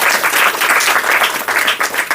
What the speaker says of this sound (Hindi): जोरदार ताली बजाओ एरियो।